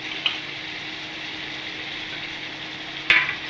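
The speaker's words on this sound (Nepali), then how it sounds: "तेल तात्यो, प्याज हाल्दैछु।" Onions frying in hot oil in a pan: a continuous soft sizzle with a couple of brief sharper crackles or clinks, fairly close and alone without talk.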